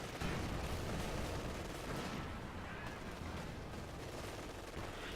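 In a Company of Heroes 2 match, a pack howitzer shells a church, a dense rolling barrage of blasts and crackling gunfire that runs as a busy, continuous battle din, fairly quiet and heard from a distance.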